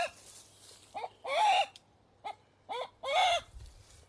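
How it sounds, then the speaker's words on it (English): A rooster among a flock of backyard chickens crows nearby in a couple of loud, rising calls, with a few shorter clucks in between against a quiet background. "Got a noisy one today on my chickens, obviously announcing that he's around."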